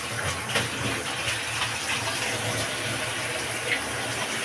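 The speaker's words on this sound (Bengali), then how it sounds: "মাংসটা মোটামুটি কষানো হয়ে গেছে, জল দেওয়া হয়েছে, এবার ফুটবে।" Water being poured into a pot of browned mutton curry, a steady soft gushing splash that runs evenly throughout, fairly quiet and close.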